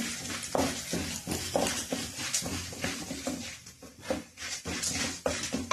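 Chana dal and urad dal frying in hot oil for a pulicha keerai dish, a continuous soft sizzle and crackle with occasional stirring scrapes of a spoon against the pan, heard close and steady without talk.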